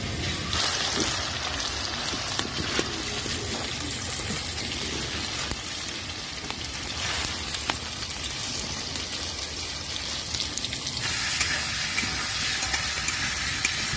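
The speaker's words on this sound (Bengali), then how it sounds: "একটু ভালো করে আলুটা ভালো করে ভাজা হবে" Potatoes fry in a pan with a steady, close sizzle and crackle, broken by occasional scraping stirs as they brown, with no talking.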